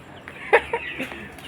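Several short clucks from chickens, a few sharp calls spaced over a second and a half against a faint, steady background hiss.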